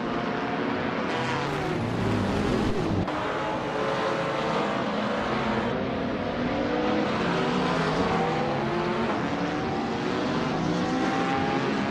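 Race cars in a racing video game, including a 2015 Nissan 370Z, roaring continuously with layered engine whine and shifting pitch as they speed past, loud and unbroken with no talk.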